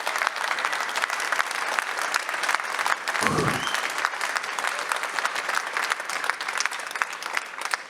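An audience applauds a final candidate at a Paris 2023 eloquence contest final for funeral masters of ceremony, with steady, even clapping throughout and a brief low thump partway through.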